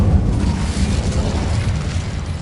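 A roaring whoosh of flame from the Incendio fire spell in Hogwarts Legacy, loud and close, with a dense rumbling blast that holds steadily for a couple of seconds.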